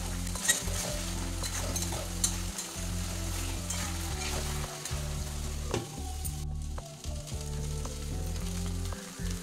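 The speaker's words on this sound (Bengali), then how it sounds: "আর একটু কষে নেবো 1-2 মিনিট" Masala spices with green chilies sizzle and fry steadily in a pan at close range, while a utensil scrapes and stirs through them in repeated strokes.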